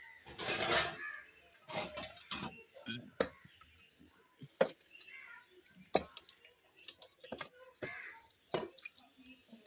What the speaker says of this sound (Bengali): এখন বন্ধুরা ধুয়ে নিচ্ছি দেখো